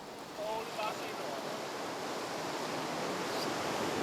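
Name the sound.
gentle waves of the coral reef sea, Tuvalu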